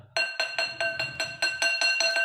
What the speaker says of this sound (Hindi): पत्थर वाला साउंड है